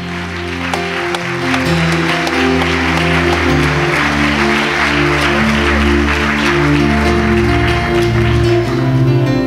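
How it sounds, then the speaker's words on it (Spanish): Applause from a church congregation during a worship service, a steady wash of clapping that runs the whole time, mixed with loud sustained music. "Denle un aplauso al cielo,"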